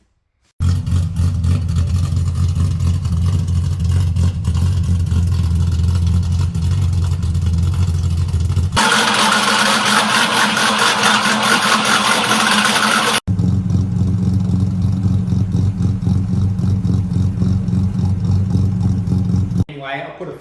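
A cammed Ford AU XR8 or Holden VT SS V8 engine idles with a loping, choppy rumble, then revs hard several times with a loud, raspy roar before settling back to a lumpy idle.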